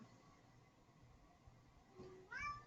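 A cat meows faintly near the end, a short rising call after quiet background hum.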